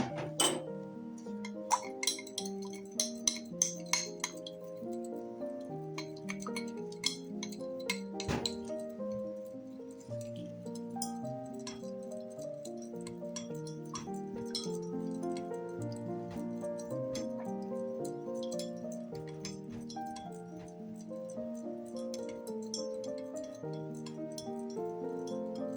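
Clinking glass and utensil taps while oil-based turmeric clay mask ingredients are stirred together in a container, several sharp clinks early then a steady sustained tone underneath for the rest.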